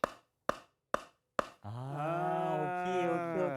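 A hammer strikes four sharp, evenly spaced knocks, followed by a sustained, strongly tonal droning hum.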